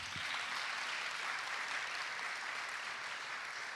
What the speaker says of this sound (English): you should give them an applause